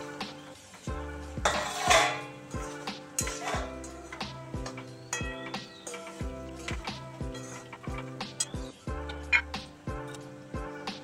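Metal pots and utensils clatter and clink repeatedly while jackfruit curry cooks, a steady rhythm of close, fairly loud knocks and scrapes with a bright burst of clanging early on.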